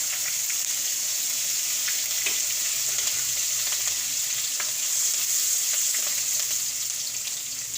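Ginger, garlic and green chillies crackle in hot oil for a tempering, a steady close sizzle with light stirring scrapes and pops throughout, no voices.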